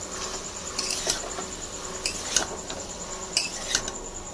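Chickpeas, potatoes and spices being stirred and fried in a pan: clear metallic clinks and scrapes of a spatula land in paired strikes roughly once a second over a soft, steady background hiss.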